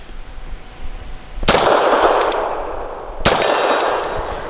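Two sharp gunshots from a Bersa TPR 380 pistol about two seconds apart, loud and close, each followed by a ringing metallic clang and a short fading echo, with no talk.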